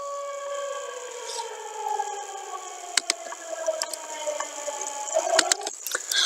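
Tornado siren in a video game, sounding at a level crossing, holds a long steady multi-tone wail that slowly drifts in pitch, punctuated by sharp clicks and knocks near the end.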